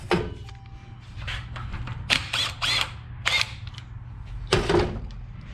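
A 15mm wrench works loose a part on Yamaha YZ450F forks on the bench, giving a series of short metallic clicking and scraping bursts at close range.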